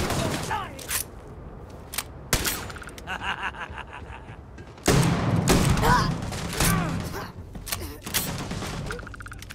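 Weapon fire in the space game Starfield comes as several loud, sharp bursts of shots with thuds and impacts between them, mixed with game sounds and a voice talking at times.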